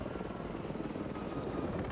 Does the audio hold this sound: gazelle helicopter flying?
yes